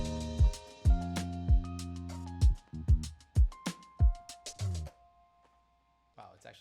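Bass guitar notes thump in a loose rhythm while a sparse piano line plays above, ending in a short pause before a brief voice.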